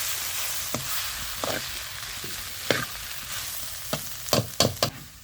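Ambadi greens with green chillies and salt are stirred in a hot pan, a steady sizzle overlaid by irregular scraping strokes of the spoon that bunch into sharper knocks near the end, with no voices.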